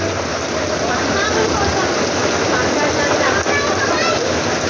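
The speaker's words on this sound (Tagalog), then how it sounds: "morning mga idol sobrang lakas ng ulan" Heavy rain pours down steadily in a village setting, a dense continuous hiss and splatter filling the whole clip at close range, with no pauses.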